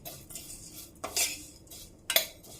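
A metal spoon scrapes and clinks against a pan while vermicelli is stirred in hot ghee for a homemade dessert, sounding as a few sharp close scraping strokes with soft rustling between, no voices.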